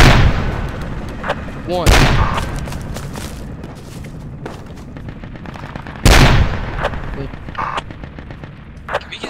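A mortar fires in the video game Project Reality, set in the Falklands War, with two heavy, close booms several seconds apart and crackling echoes in between while players talk over it.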